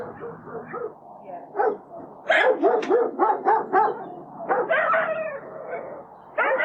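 Greyhound barking and yipping in a rapid run of loud close barks, with whines and a few howl-like notes, pausing briefly before starting again.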